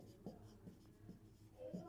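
Pen strokes scratch across paper while consonants are written out during a math lesson, a few soft intermittent scribbles with faint background noise and a brief murmur of voice.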